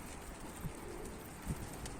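Pigeons give two soft, brief coos at a distance amid light background noise.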